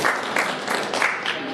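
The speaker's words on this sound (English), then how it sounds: "let's give them a hearty clap." An audience claps warmly for Postbank staff and department heads at a bank partnership event in Kenya, a steady close wash of many hands with a few louder swells, no voices on top.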